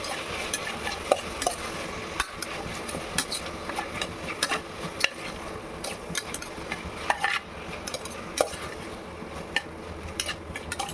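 A spoon stirs and sautés food in a hot pan just after salt is added during home cooking, with steady scraping and soft sizzling, frequent small clinks against the pan, close by and without talk.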